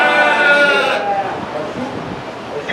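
Lamb at a 2024 youth sheep show letting out a loud, close, wavering bleat that lasts about a second, followed by softer crowd and arena noise with talk underneath.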